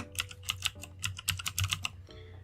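Quick run of crisp computer keyboard clicks, close and distinct, with a brief pause midway and a final tap.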